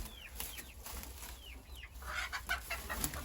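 Chickens cluck and murmur close by, including a hen laying an egg, with short rising calls and a brief burst of squawking toward the end.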